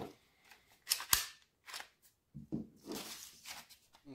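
Bead pistol firing at paper indoors, giving sharp snapping cracks and papery rustles, a few spaced impacts with brief pauses between them, close and fairly quiet.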